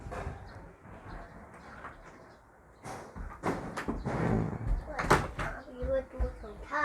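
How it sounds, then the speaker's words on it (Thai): A large door to a laundry room in a prefab knock-down house is opened with a burst of rattling and scraping midway, while someone talks over it. "เปิดประตูนะครับ"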